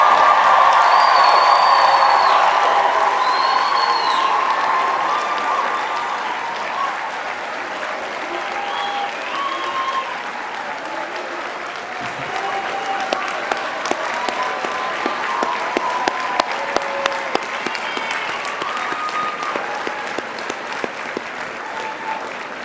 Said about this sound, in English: Please give a huge round of applause and a rousing cheer for today's graduates.